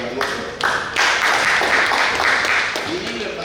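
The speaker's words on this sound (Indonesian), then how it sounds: "kita beri tepuk tangan untuk Pak Gubernur." An audience at a Papua provincial government event breaks into applause for the governor, a dense wash of clapping that swells quickly and holds steady for a few seconds.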